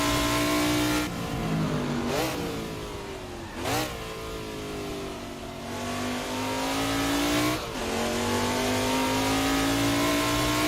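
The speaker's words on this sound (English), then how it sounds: "the noise, the blipping going underneath the tunnels and the bridges and things. It sounds so good." A Trans Am race car engine in the Assetto Corsa driving game revs hard and drones loudly while driving under tunnels and bridges, broken by a few sharp throttle blips on gear changes, with a close, continuous roar throughout.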